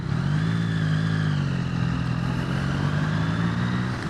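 A 2023 Yamaha XSR 900 motorcycle engine while riding, a steady close drone with smooth throttle and slight pitch rise and fall, with wind rush throughout.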